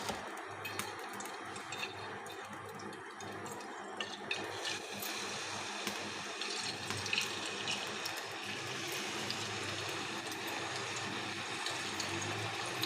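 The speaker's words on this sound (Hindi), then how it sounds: "ऑयल गर्म हो चुका है। अब इसमें हम कबाब ऐड करेंगे।" Gola kebabs fry in a pan of hot oil, giving a continuous crackling sizzle with a few light clinks, moderately close and steady, with no talking over it.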